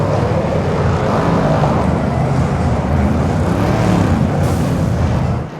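Loud, continuous engine roar from racing cars, including LMP3 and GT3 prototypes, passing on track at the Michelin Le Mans Cup, a dense broadband drone that holds steady before cutting off.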